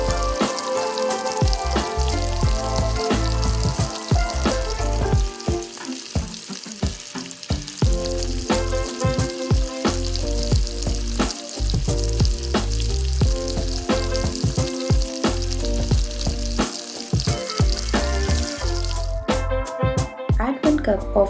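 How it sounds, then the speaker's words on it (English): An egg cooks in a pan with curry leaves and green chilies for chicken fried rice, sizzling loudly and continuously with stirring clicks and scrapes, under a voice talking, before the sizzle cuts off near the end. "Add 1 egg and cook until soft curds are formed."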